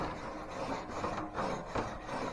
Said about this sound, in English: Let's scrape it off.